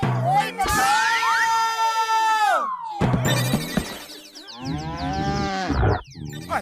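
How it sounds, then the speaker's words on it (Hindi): A cartoon buffalo, Yamraj's buffalo in Motu Patlu, lets out loud, drawn-out lowing calls with sweeping, bending pitch. The calls come in two long bursts over a busy cartoon soundtrack. "अरे हम जिंदा हैं या यमराज का भैंसा हमें लेने आया है?"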